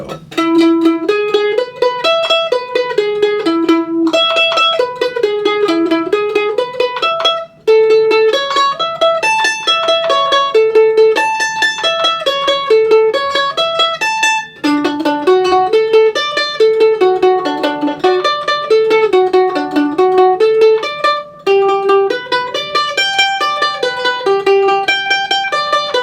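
Mandolin playing a fast bluegrass B part break with quick alternating down and upstrokes, a steady stream of bright tremolo-like picked notes running loud and continuous, solo with no talking.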